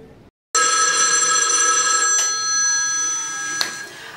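An old-style telephone bell rings loudly and continuously, starting abruptly after a brief silence and sustaining a bright metallic trill.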